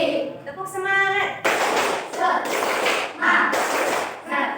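A classroom of pupils does a rhythmic spirit clap, a few sharp patterned bursts of group clapping mixed with voices chanting along.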